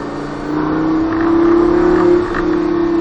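A Lamborghini Gallardo LP 560 pulls into the pits at Circuit de Trappes, its engine holding a loud steady drone close by that swells and eases slightly.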